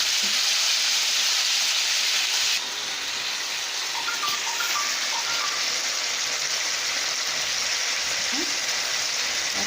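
Chicken breast roasting in a pan, a loud, steady sizzle of frying that drops slightly partway through and then continues evenly with faint crackles.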